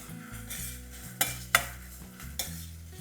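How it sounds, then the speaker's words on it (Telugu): Chopped onions dropped into well-heated oil for a beans and potato fry, giving a steady close sizzle with a few sharp clinks of utensil on pan. "నూనె బాగా కాగిన తర్వాత కట్ చేసుకున్న ఉల్లిపాయలు వేసేస్తాను."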